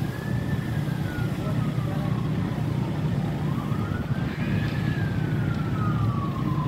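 Emergency vehicle sirens, ambulances and fire trucks responding to a house fire, wail in long rising and falling sweeps at moderate distance over steady traffic and street rumble.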